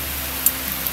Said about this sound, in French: Voilà, c'est la pluie